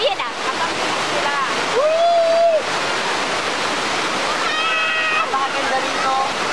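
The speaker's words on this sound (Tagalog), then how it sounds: "Tapos nalalaglag yung waterfall." Broad roar of a waterfall on a Davao tour, loud and constant, with people talking and exclaiming over the rushing water.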